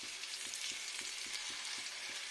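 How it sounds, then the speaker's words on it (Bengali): Quiet, even hiss of khoshla bora fritters frying in oil, steady bubbling with a faint evenly spaced low tick, nearby and without talk. "দু পিঠ সুন্দর করে ব্রাউন করে ভাজতে হবে"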